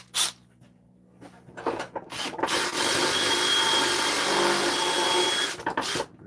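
A power drill with a larger bit bores into wood for a jig, starting with a few short clicks and taps before a loud, sustained whir that runs for about three seconds, then stops with a clunk.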